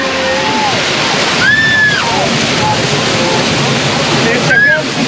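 Cold shower water pours down at the Waterbom water park in Bali, a loud, steady close-up rush and splash, with brief high voices calling out over it.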